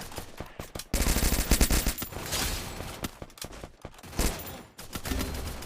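Rapid automatic gunfire from a 4v4 shooter video game, loud bursts of repeated shots with brief pauses between volleys, dense and continuous for most of the stretch.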